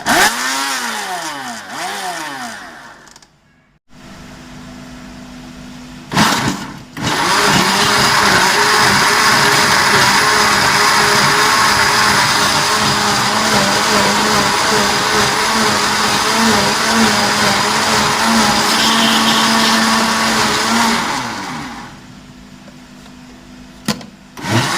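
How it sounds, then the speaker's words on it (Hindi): An electric grinder whirs loudly and steadily for about fifteen seconds, blending tomato chutney with salt, after a few short bursts and pauses at the start, then winds down and stops. "इसको करते हैं ग्राइंड।"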